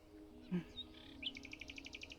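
Near the ocean, small birds give a quick run of bright, rapid chirps, fairly close but soft, after a brief low call and a quiet murmur of voices.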